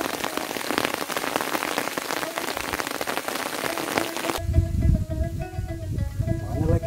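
Close, steady rain hisses and drums down on a fishing trip for climbing perch. Partway through, the crisp spatter gives way to a duller, muffled rumble.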